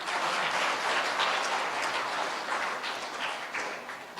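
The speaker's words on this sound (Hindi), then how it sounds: "तालियां मारिए।" An audience clapping at a Hindi satsang gathering, sustained applause from many hands that stays dense and fairly even, easing slightly toward the end, with no speech on top.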